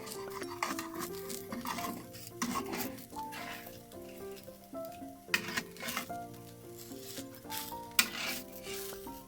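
Rice flour pitha batter cooking in a wok, a soft sizzle under loud background music, with occasional sharp clinks and splatter accents.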